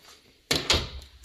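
Door in a newly moved-into house swinging shut with a couple of soft thuds and a faint rattle, quiet and close with no talk.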